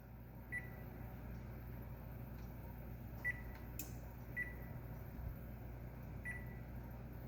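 An oven timer beeps in a home kitchen during baking: several short, faint electronic beeps spaced a second or so apart over steady low room noise, with no voices.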